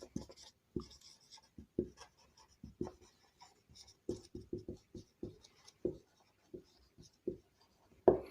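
Pen or chalk writing out a procedure during a lecture on eliminating epsilon productions, a series of short scratchy strokes in irregular bursts, close and clear, with no talk.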